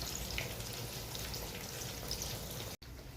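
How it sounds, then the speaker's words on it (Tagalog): Onion and tomato bubble and sizzle in a pot for fish soup, a soft continuous crackle with scattered pops, faint and steady, ending in a brief dropout. "magpapakulo tayo ng onion kamatis"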